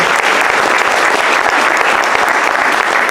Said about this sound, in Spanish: Les damos un aplauso por favor a todos nuestros médicos del hospital.